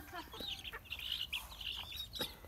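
Chickens cluck and squawk near and far while they feed, a busy run of short calls over low background rumble, with faint voices at times.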